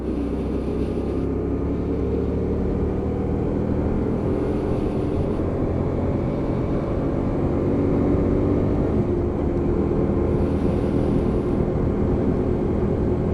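A Hyosung GT125R motorcycle with a brand new engine runs along a dual carriageway, giving a loud, steady engine drone with a slowly rising pitch and constant wind and road roar throughout.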